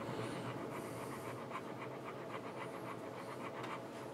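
A dog pants rapidly and rhythmically right next to the listener, a steady run of quick breathy puffs with no talking over it.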